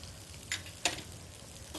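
Grated coconut roasts in ghee in a pan, giving a soft continuous sizzle with a few brief louder bursts as it is tipped in and stirred, heard alone and fairly quiet.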